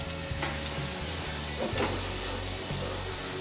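Onions and beef liver fry together in a pan, giving a steady, dense sizzle with crackling bursts that carries on throughout, loud and close, with no talking.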